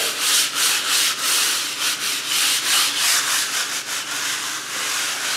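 A brush scrubs baking soda into tile grout lines during a kitchen deep clean, giving rapid back-and-forth rasping strokes in a steady rhythm, close and loud, with no talking.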